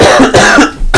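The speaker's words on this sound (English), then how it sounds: "I'm coughing my guts up" A person coughs hard and close, several harsh, rapid bursts packed into about a second, loud and raspy with no words spoken.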